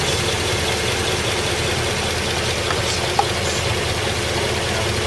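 A CNG-fuelled vehicle engine idles with a steady, even rumble and hiss, continuous and fairly loud, with no voices.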